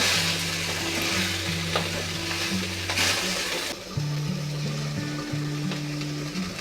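Onion frying in oil with garlic and ginger paste, a dense steady sizzle heard up close, with a low hum underneath and a brief drop in the hiss partway through.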